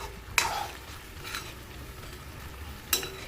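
Chicken curry reheating in a pan gives off a faint, steady low simmer, broken by a couple of brief sharp clinks near the start and end. No voices.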